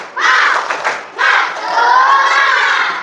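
A class of fourth-grade schoolchildren shouts a loud, energetic cheer in two bursts, rhythmic clapping mixed into the close, bright chorus of young voices.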